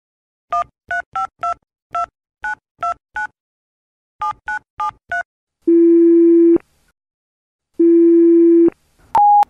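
A telephone keypad dials about a dozen short, evenly spaced tones in two bursts, then two long, steady ringing tones sound with a pause between them, ending in a brief higher beep. All are loud and clear, with no talking.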